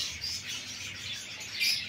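African lovebirds in breeding cages chirp and twitter steadily, a fairly soft, continuous high-pitched chatter with a few sharper calls standing out near the end.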